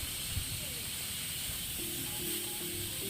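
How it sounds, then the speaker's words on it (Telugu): A steady, continuous hiss of steam escapes from a pressure cooker cooking rice for Hyderabadi biryani. It holds an even, moderate level throughout with faint background tones and no clear speech. "కుక్కర్ ఒక విజిల్ వస్తే సరిపోతుందండి,"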